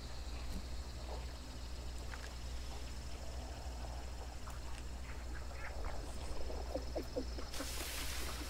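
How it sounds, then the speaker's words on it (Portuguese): Ducks quacking in the Hunt: Showdown video game, a scatter of short nasal quacks at moderate distance, getting busier toward the end over a steady low ambient hum, with no talk. "Aqui é pato. Vai entregar minha posição."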